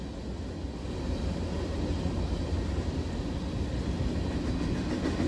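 An empty rubbish freight train rolls steadily past near Fostoria, Ohio, in rainy weather, with a continuous loud broadband rumble and wheel noise throughout and no voices.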